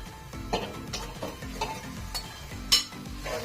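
Mutton with onion and tomato is stirred in a pan at close range, with soft sizzling under repeated scraping strokes and occasional utensil clinks against the metal.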